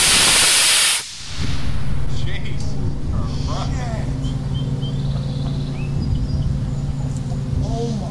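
A large three-grain rocket motor on a static thrust test stand gives a loud, roaring hiss for about a second, then cuts off, leaving a low steady hum and faint outdoor background.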